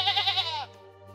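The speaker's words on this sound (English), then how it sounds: "Many goats." A single short, loud bleat from a farm goat among a herd, wavering and then breaking off, with a low constant hum underneath.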